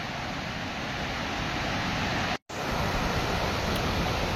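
Water overflowing at Itiadoh Dam in Gondia pours down in a steady, loud, roaring wash of broadband noise that fills the whole scene, broken only by a momentary dropout midway, with no voices.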